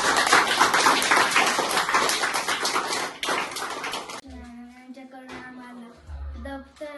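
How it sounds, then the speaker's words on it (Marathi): Children in a school in a remote tribal village clap together in a dense, fast burst lasting a few seconds, then it stops abruptly and a few voices and scattered sounds follow. "सगळ्यांनी टाळ्या वाजून मॅडमचं धन्यवाद करावा"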